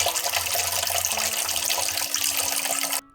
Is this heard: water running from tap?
yes